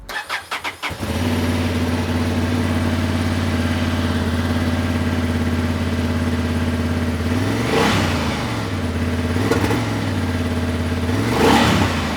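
A Honda CB750 Hornet motorcycle with the stock exhaust baffle cranks and fires up, then idles steadily and close. It is blipped into two quick revs partway through, and no one speaks.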